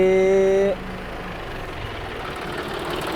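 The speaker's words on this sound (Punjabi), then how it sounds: "ਜਮੇਰ ਭਾਈ ਟਰੈਕਟਰ ਲੈ ਕੇ ਆ ਗਏ ਆ" A John Deere tractor, brought in for engine modification, idles with a low, even rumble at moderate distance after a short tone cuts off, with no talking.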